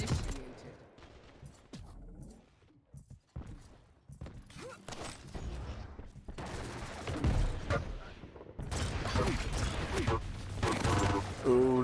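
Shotgun blasts and other weapon fire in the arena shooter Quake Champions, sharp repeated bursts within busy game action, with talking over parts of it.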